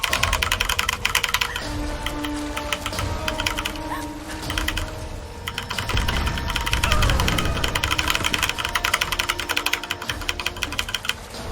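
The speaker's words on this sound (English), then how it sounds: "you're going to hear a lot of mashing of the keyboard" Rapid, constant keyboard mashing during a 100% Tomb Raider (2013) speedrun, dense clattering keystrokes running without pause over steady game sound for the whole stretch.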